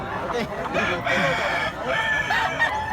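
Roosters crow and chickens cluck in a busy, noisy farmyard, with overlapping calls near and far under some background voices.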